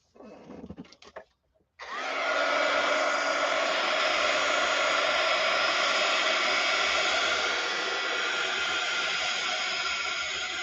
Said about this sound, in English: All right, let's use the heat gun.